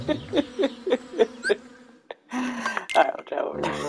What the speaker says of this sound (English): Oh no, bees.